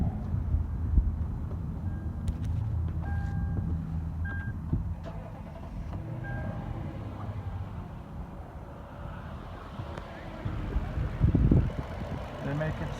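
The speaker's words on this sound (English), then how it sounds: "I'll shut up so you can actually hear the engine" A 2010 Lexus GX 460 engine idles quietly and steadily under the open hood, a low even hum with faint background clicks and a brief louder rumble near the end.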